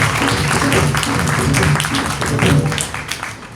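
A church congregation at a Pentecost feast service applauds, loud dense clapping from many hands filling the room, with voices mixed in beneath.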